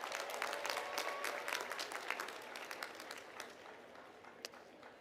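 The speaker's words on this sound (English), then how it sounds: "Let's give them a well-deserved round of applause" Graduates with a perfect 4.0 GPA draw applause from a commencement audience, a dense wash of many hands clapping at moderate distance that slowly thins out over five seconds, with a few sharper individual claps near the end.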